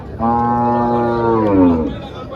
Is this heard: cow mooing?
yes